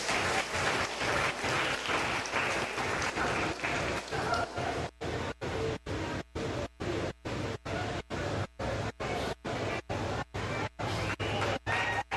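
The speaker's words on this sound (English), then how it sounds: "let's give these kids one more round of applause" An audience at a 2021 meat goat show applauds the young exhibitors with a thick, loud round of clapping. After a few seconds it gives way to a regular, pulsing rhythm.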